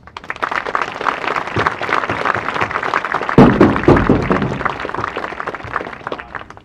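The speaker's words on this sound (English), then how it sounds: "Inductees and current members, please give a round of applause for these important people in your lives." An audience at a high school National Honor Society convocation gives a round of applause, with sustained dense clapping that swells louder midway, then continues steadily.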